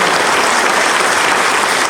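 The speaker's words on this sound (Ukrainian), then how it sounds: "Я тобі так само аплодую" An audience claps loudly and densely in a sustained burst of applause, heard close with no voices above it.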